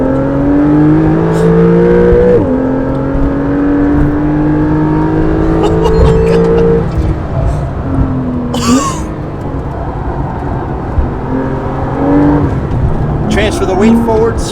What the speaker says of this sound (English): squeeze the throttle on at the exit.